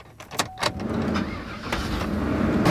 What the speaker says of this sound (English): Here we go, starting it up.